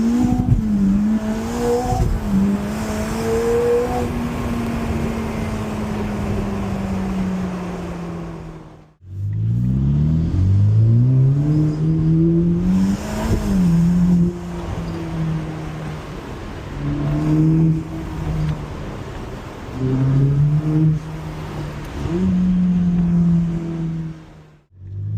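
A 2025 Ferrari Roma Spider driven hard, its engine revving up through the gears in repeated rising surges with brief drops at shifts, loud and close, one sharp break before pulling away again.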